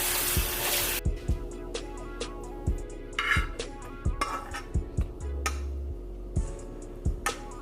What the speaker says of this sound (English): you can wash the dishes that you just used